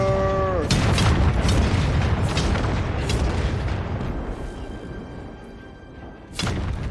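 Cannon fire in the Total War: Warhammer 3 battle game, a series of heavy booming blasts with rolling rumble that fades, then one more loud boom near the end, with faint talk underneath.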